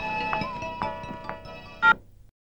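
A phone ringtone sounds in a Tamil movie scene, a steady electronic tone repeating in short pulses over a low background hum, ending with a brief louder burst before cutting to silence.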